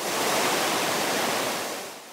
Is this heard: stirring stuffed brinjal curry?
no